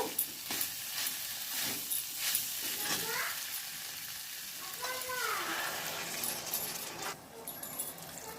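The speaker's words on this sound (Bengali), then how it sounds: "আমি দু কাপ জল দিয়ে দিলাম" Two cups of water go into a frying potato and fig curry, splashing and hissing against the hot oil amid close stirring clinks and a steady sizzle.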